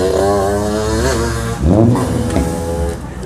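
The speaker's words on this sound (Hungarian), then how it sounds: "A szerencsétlen 50 centis motorjával, aminek a kipufogóját átalakították úgy, hogy ilyen hangja legyen" A 50cc motorbike with a modified exhaust, ridden in a wheelie past a seaside bar, revs loudly and close by, its buzzing engine note rising and falling in pitch over a few seconds, with a brief surge in the middle as it passes.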